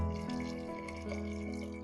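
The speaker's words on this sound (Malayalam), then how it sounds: "ഇനി നമ്മൾ വെള്ളം ഒഴിച്ചു കൊടുക്കുന്നു" Water pours steadily into a pot of rice and dal for a short, even stretch, a continuous soft liquid rush with faint ringing tones.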